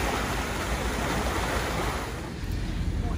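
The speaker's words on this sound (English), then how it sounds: "now that's some serious water coming in there" Water rushes into a canal lock at Foxton Locks as a steady, loud, broadband roar that holds without a break throughout.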